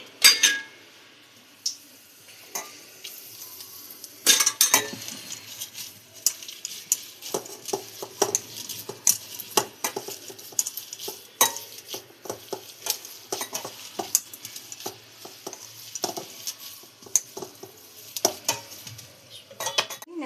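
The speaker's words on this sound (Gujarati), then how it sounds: "આમાં તળશું હવે તેલ ગરમ થઈ ગયું છે" Undhiyu muthiya dumplings sizzle in hot oil while a utensil stirs and clinks against the pan in irregular bursts. No one speaks.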